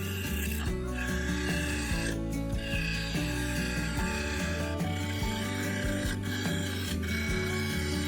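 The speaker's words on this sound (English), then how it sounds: "Using the full-size carbide, I cut away the black resin to expose the segments, swapping to the bowl gouge to shape the inner part" Carbide tool and bowl gouge cutting into a spinning segmented sapele and black resin bowl on a lathe, a steady close rasping scrape over a low motor hum that runs the whole time with brief breaks between cuts.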